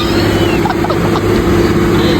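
A noisy tractor engine runs beside a tent campsite during an autumn picnic, giving a steady, loud rumble that drowns out everything else throughout.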